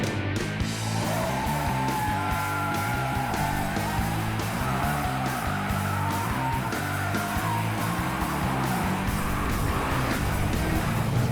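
A car engine roars continuously at high revs on a race track, a loud, sustained note with shifting pitch and gear changes and no talk over it.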